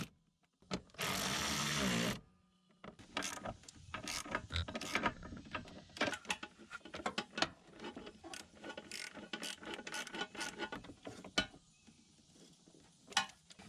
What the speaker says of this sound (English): Now screw these screws in, but be careful not to over tighten them because they're going into plastic